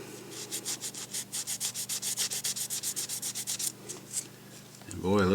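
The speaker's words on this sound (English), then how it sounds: "Take some of this material and give it a little rub." Polishing material rubbed by hand on a small, dull brass oiler makes quick, rhythmic back-and-forth scrubbing strokes, steady for about four seconds, then slowing to a few last rubs before a brief voice at the end.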